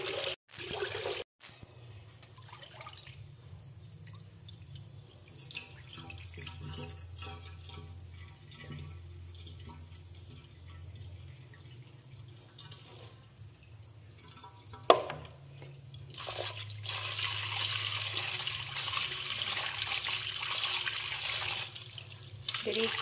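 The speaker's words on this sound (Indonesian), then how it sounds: "Jadi sebelum dibungkus, ketan kita cuci terlebih dahulu." Glutinous rice for lopis being rinsed in water, a steady trickling and sloshing that runs throughout, growing louder and splashier in the final stretch with no talk.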